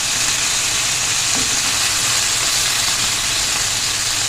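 Chicken pieces for Afghani chicken gravy frying in a pan, a steady loud sizzle with a constant crackling hiss throughout and no talking.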